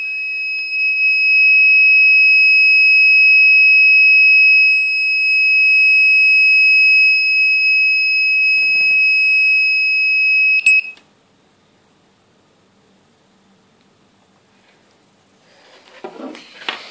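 A loud, steady electronic buzzer alarm from an Arduino gas sensor project sounds continuously for about ten seconds, then cuts off abruptly, leaving near silence and a faint rustle.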